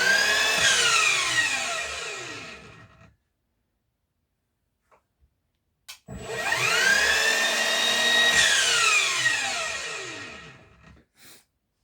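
An Einhell TE-MS 18/210 cordless 18V mitre chop saw spins up with a rising whine, runs loud and close, then winds down; after a few seconds' pause it whirs up again and coasts to a stop, with no talking.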